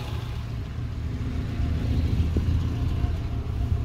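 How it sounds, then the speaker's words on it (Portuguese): A Renault Clio engine, fitted with a new throttle body, idles in a steady low rumble close by, with no revving. "marcha lenta bem estável"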